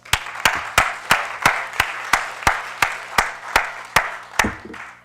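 An audience applauds a blockchain conference panel with loud, sharp claps in a steady, even rhythm, roughly three per second, over a softer wash of scattered clapping.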